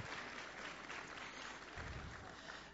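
A church congregation at a Thanksgiving service claps to welcome visitors, with steady applause from a crowd heard at moderate distance.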